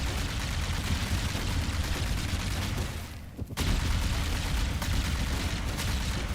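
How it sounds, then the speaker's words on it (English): Plasma rifle from Halo CE firing in rapid, sustained bursts, a steady buzzing stream of shots with a brief pause midway before firing resumes. "This sounds like the Halo CE rifle."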